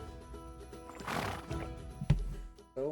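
A horse whinnies loudly in the medieval game Kingdom Come: Deliverance II, a rising and falling neigh over a soft musical background, followed by a thud and a brief snort.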